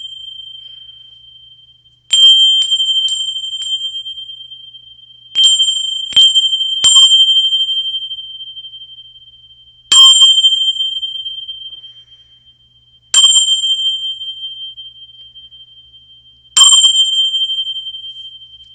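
Brass tingsha bells struck together several times, each strike ringing out in a bright, sustained high tone that slowly fades, with pauses between strikes.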